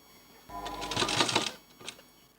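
A sewing machine stitches a short run of leaf-shaped thread piping, one close, rattling burst lasting about a second before it fades into quiet.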